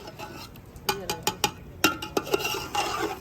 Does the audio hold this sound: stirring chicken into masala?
yes